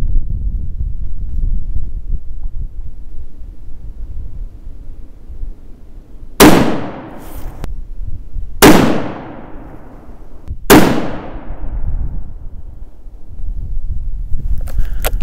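Three sharp rifle shots from a Ruger M77 chambered in .243, evenly spaced about two seconds apart, each a loud crack with a decaying ring, over quiet outdoor background.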